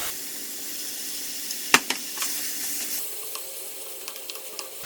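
Vegetables go into a hot pan with meat for a shiitake mushroom pasta, giving a sharp clatter and then a steady sizzle with a few small pops and taps, without any voices.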